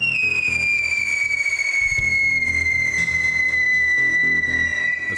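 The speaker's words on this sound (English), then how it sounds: "This causes the tube to vibrate and you get the whistle sound." A whistler firework lets out one loud, piercing, steady whistle that slowly falls in pitch over several seconds, with crackling and rumbling underneath.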